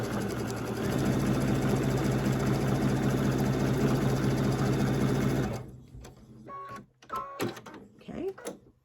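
A sewing machine stitches fabric onto a scrap quilt, humming steadily and loudly for about five seconds before stopping, followed by quiet handling noises and a few brief clicks.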